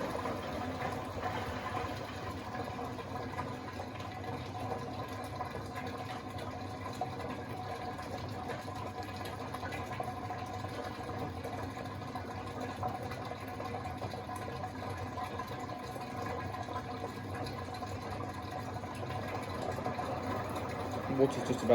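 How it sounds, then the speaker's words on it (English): A Beko WTK104121A washing machine on a synthetics 60°C fast cycle runs its final spin and drains, a low steady hum and watery churning lasting throughout, with a person's voice talking over it. "I wonder if it's going on to longer, doing a longer spin. Final spin then"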